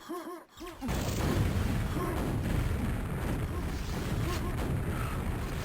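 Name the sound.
rocket explosion in Quake video game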